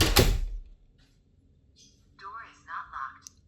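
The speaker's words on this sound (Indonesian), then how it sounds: "Jadi pada saat kita menutup pintu," A door swings shut with a loud thud at the start, fitted with a Philips Easy Key Alpha smart lock, followed by quiet faint clicks and then a synthetic voice prompt from the lock.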